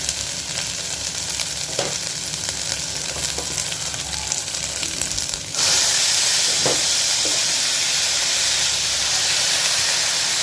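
Mutton added to a pan of well-sautéed onions for a mutton fry, setting off a loud, steady close sizzle and hiss that jumps brighter and fuller partway through, with a few stirring clinks.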